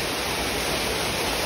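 Close, constant rushing roar of a waterfall at the bottom of a 400-step trail, dense and unvarying throughout with no talking.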